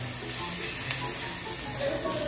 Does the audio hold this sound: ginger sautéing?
yes